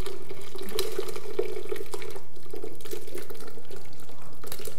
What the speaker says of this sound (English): So we're gonna pour this out very carefully